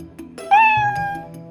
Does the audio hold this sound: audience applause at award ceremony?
no